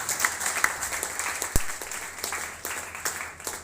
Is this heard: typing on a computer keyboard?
no